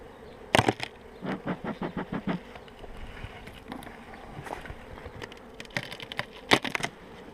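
Honeybees in hive number 37 give a faint, low buzz, broken by a series of sharp clicks and knocks as the hive is handled, with no voices.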